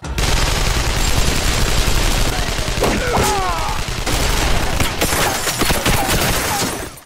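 Dense gunfire crackles through a gang shootout in an animated Batman film, loud rapid overlapping shots and bursts filling the whole scene with a few brief ricochet-like whines.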